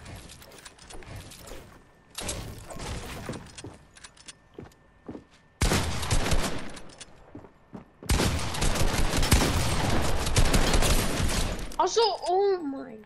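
Shotgun blasts in the Fortnite video game come as loud, dense bursts between quieter stretches, with clanking mechanisms and footsteps in between and a brief voice at the very end.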